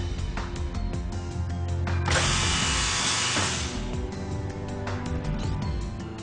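A GANNOMAT Elite dowel inserting machine clatters through its drilling and dowel-inserting cycle, with rapid mechanical ticking and a louder sustained drilling burst of about two seconds in the middle, all close and fairly loud.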